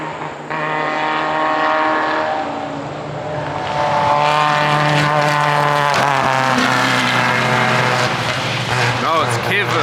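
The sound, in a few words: off-road race car engine misfiring as it passes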